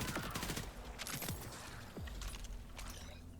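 Rapid bursts of submachine-gun fire from the Ricochet Darkbeast SMG in the video game Borderlands 4, dense crackling shots with ricochet pings over a steady game background, loud and close throughout.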